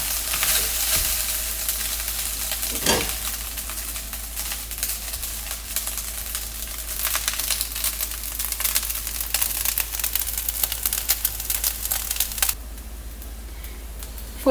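Coconut rice being stirred and mixed in a hot pan, a continuous crisp scraping and sizzling rustle close up, steady throughout before cutting abruptly to quieter background near the end.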